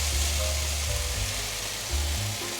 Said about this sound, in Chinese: 现在放入酱汁，